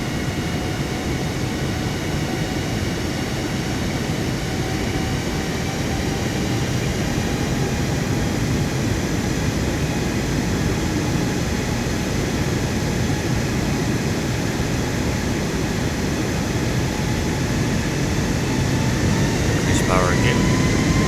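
Jet engine roar in Microsoft Flight Simulator 2024 during a go-around, a loud steady broadband rush with a faint rising tone as power increases, and talk over it throughout.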